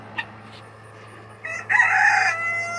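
A blue rooster crows loudly and close by, one long drawn-out call after a few faint clucks.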